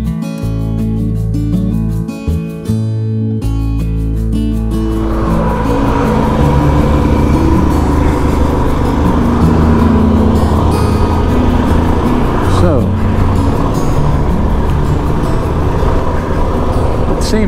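A Royal Enfield Himalayan motorcycle is ridden on the road. A steady, loud engine note and rushing wind noise build after a brief idle-like start and continue through the ride.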